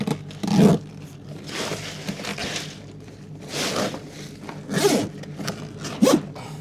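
A zipper is pulled closed on a bag holding ice, heard offshore on a fishing boat: several raspy zipping strokes in separate bursts, close and fairly loud, with no talking.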